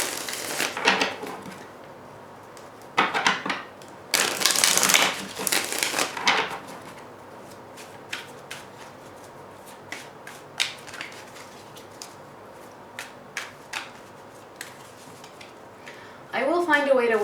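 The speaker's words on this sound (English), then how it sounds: "let me just give a quick shuffle." Several short bursts of tarot card shuffling, crisp riffling rustles separated by quiet pauses, with a few light taps and clicks in between.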